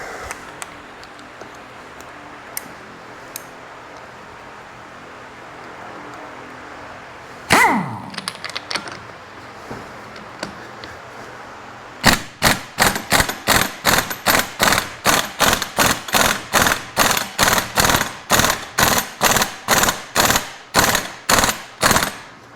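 Pneumatic impact tool hammering on the crankshaft of an Arctic Cat Prowler XT650 side-by-side, a loud, fast train of sharp rattling bursts after a few quiet clicks and a brief whoosh, running steadily to the end.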